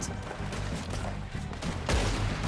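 Gunfire rings out in Red Dead Redemption 2's Wild West, with a steady, dense rattle of shots and impacts that swells near the end. There is no talking.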